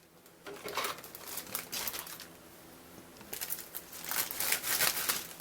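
Plastic packaging crinkling and crackling while a 1:25 scale model car kit is unboxed, irregular bursts of rustling that come and go, fairly close and moderately quiet with no talk.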